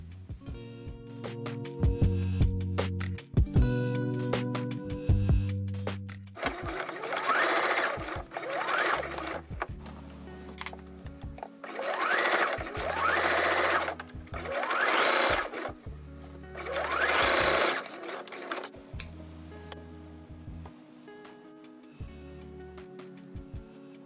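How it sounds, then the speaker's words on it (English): A sewing machine stitches a 1 cm seam on a large fabric hair scrunchie, with several loud, close bursts of rapid whirring stitching separated by pauses in which only a low steady hum remains. "Now we will take it to the machine to sew a 1 centimetre seam allowance."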